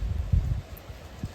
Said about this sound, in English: It's windy, very windy here today.